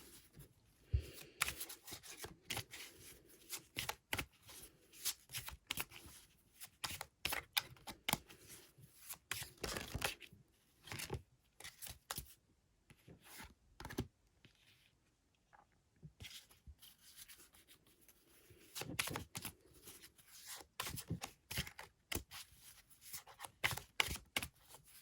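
Tarot cards are shuffled and drawn for a Cancer reading in quick, papery riffles and soft rubbing slides, close and quiet, coming in bursts with short pauses between them.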